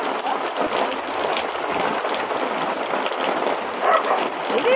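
Steady rain patters and hisses on a surface throughout, a dense continuous wash of drops with a faint chirp near the end.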